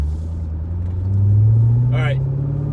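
Inside a moving Corvette on an uneven road, a low engine and road rumble hums steadily, swelling slightly midway, with a brief rattle-like burst near the end; someone talks over it.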